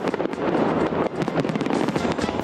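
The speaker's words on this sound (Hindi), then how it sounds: "आतिशबाजी शुरू होते ही आसमान पर हर तरफ रंग ही रंग फैल गए" New Year fireworks over a city sky, a dense, continuous barrage of rapid crackling bursts and pops with no pause, loud and close.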